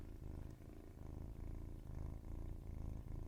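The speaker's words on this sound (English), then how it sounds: "Here are some purrs for your listening pleasure, some ASMR." A kitten purrs steadily up close, a low rumbling vibration pulsing in a regular rhythm of breaths, soft and continuous with no other sounds.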